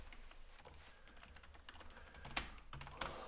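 Code is typed on a computer keyboard in quick, uneven bursts of soft key clicks, with a couple of louder keystrokes near the end. The sound is faint and close against a low background hum.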